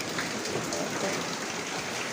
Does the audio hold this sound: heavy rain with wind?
yes